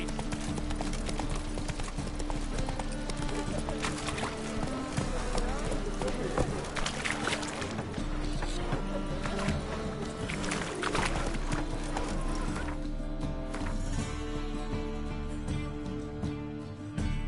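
A horse's hooves clop at a gallop in The Witcher 3: Wild Hunt, riding through the city of Novigrad. The steady hoofbeats sit within a dense, loud mix of game sound and voices that runs the whole time.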